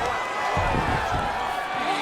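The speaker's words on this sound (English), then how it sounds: "Oh, you heard the crowd pop after that grueling ground battle." Crowd noise in the UFC 5 fighting game swells into a cheer after a long ground exchange in a women's bout, a broad roar running throughout with a commentator talking over it.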